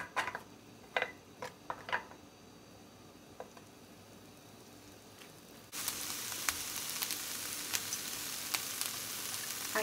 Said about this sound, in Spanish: Y vamos a comenzar a ir dorando nuestras costillas